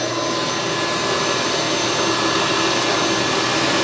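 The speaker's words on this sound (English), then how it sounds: "I'll just vacuum this out." A vacuum cleaner pulls foam debris out of a 1600mm Avios Extra NG 3D foam model airplane, a loud steady whooshing roar held without a break throughout, with no voices.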